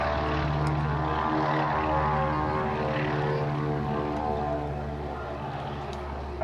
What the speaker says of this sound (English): There's the Harvard